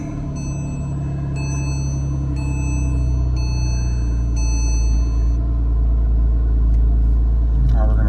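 A Porsche engine runs steadily as a low, continuous rumble with a brief electronic chime series at the start, while a person talks over it.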